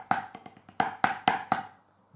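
A drum six-stroke roll, where a few soft, quick taps lead into four louder accented strokes in a row, then ring off into silence; the crisp, dry hits sound close and isolated.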